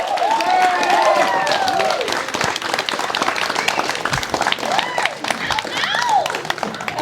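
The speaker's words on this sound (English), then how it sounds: "can I get a round of applause for the mother of the bride" Wedding guests give the mother of the bride a loud, sustained round of applause with cheering, dense clapping filling the room throughout, with whistles rising above it.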